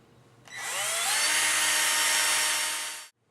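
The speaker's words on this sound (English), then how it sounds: "use a 7/64 diameter drill bit to create the pilot holes" A power drill with a 7/64-inch bit whines up to speed drilling pilot holes in wood, running steadily for over two seconds, high-pitched and fairly loud, then stops abruptly.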